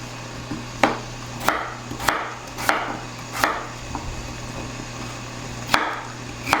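A knife chops through thick potato wedges on a cutting board, the sharp thuds coming one after another at a steady, fairly close pace, about eight cuts in all, over a low steady hum.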